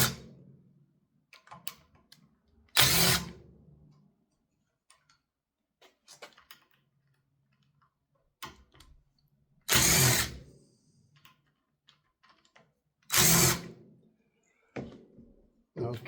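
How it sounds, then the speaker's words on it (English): Phillips screws being backed out of a furnace gas valve held in a vise: bursts of ratcheting clicks from the driver separated by quiet pauses and light handling noises, close and fairly soft. "back to taking out Phillips screws again"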